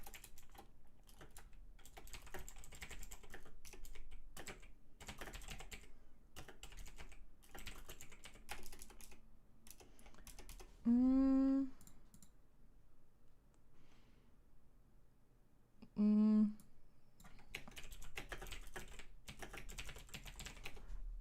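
Typing on a computer keyboard comes in bursts of quick clicking keystrokes, broken by two short tonal chimes partway through, with no speech.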